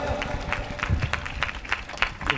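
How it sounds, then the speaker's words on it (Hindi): A church congregation claps in a steady rhythm, sharp repeated claps marking an even beat over a voice and a sustained musical tone. "जोरदार ताली बजाकर प्रभु की महिमा के लिए"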